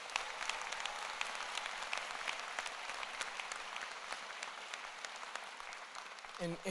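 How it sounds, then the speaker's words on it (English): A convocation audience at a medical school ceremony applauds the ushers, sustained crowd clapping with sharp individual claps, fairly distant, and a brief voice near the very end. "So please give them a round of applause."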